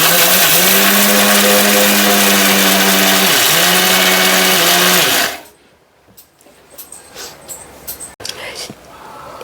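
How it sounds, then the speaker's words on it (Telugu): A mixer grinder powders cooled roasted ingredients for homemade baby food. Its loud, steady motor whine runs for about five seconds with a brief dip in pitch, then cuts off, leaving quieter handling sounds. "చల్లార్చుకున్న వాటిని అయితే మిక్సీ పట్టుకొని పౌడర్ అయితే చేసేసుకోవాలి"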